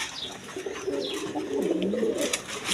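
Low, burbling coos from a group of pigeons at a seller's stall overlap continuously, a few thinner chirps rising above the steady chorus.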